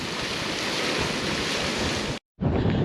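Hot bore water gushing steadily at the Birdsville car wash, a loud continuous rushing spray that cuts out briefly and then resumes, with no talking.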